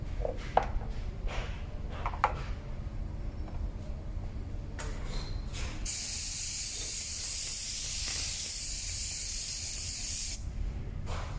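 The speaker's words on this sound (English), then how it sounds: "And you basically airbrush." A Humbrol basic airbrush spraying paint gives a steady, close hiss that starts partway through and holds for several seconds. Before it, short intermittent bursts and clicks stand out over a low background hum.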